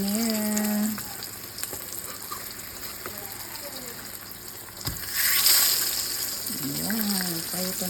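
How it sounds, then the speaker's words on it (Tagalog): Tilapia fries in a pan with a steady close sizzle and crackle, while voices talk intermittently over the cooking. "magluluto tayo ng pritong tilapia"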